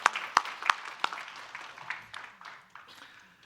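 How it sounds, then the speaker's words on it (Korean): A church congregation applauding, a few sharp near claps at first followed by softer scattered clapping that thins out and fades. "우리 함께 한번 하나님께 영광의 박수"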